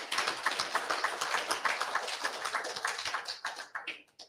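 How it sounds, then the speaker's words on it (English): An audience at a history lesson claps steadily in applause for a man turning 80, a dense patter of many hands fading out over a few seconds. "Round of applause, please."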